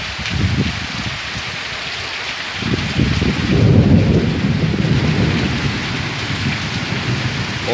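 Thunder rumbles through a heavy rainstorm at a rural smallholding, a loud rolling swell building midway and fading under the constant roar of downpour; no voices.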